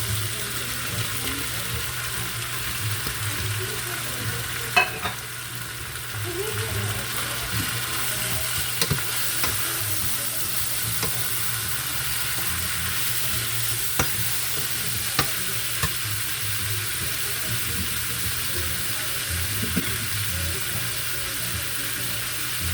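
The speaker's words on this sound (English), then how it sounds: "I'm gonna go ahead and add my ackee" Ackee cooks in a pan with a steady soft frying hiss over a low hum, occasional faint clicks and scrapes from stirring, long and even, without speech.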